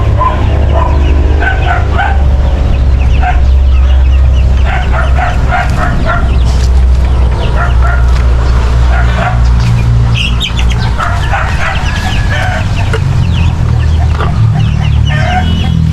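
Black Australorp chickens cluck continuously in a backyard farm, several birds calling close by over a steady low hum, with a dog barking at times and a few brief human sounds.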